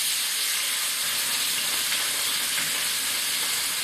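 Food sizzling hard in a skillet on a stovetop, a loud continuous crackling hiss that holds steady throughout with no voices.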